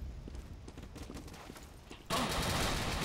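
Rapid gunfire crackles in the World War II dinosaur shooter Dino D-Day, a fast burst of shots that gives way to a loud, sustained blast of explosion noise.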